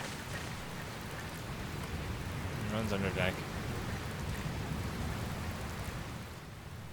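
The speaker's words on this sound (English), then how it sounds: "Oh no, it's raining." Steady rain falls in the Dragon Quest Builders 2 video game, a continuous broadband hiss filling the whole stretch, with a brief soft voice-like blip midway and the downpour holding steady throughout.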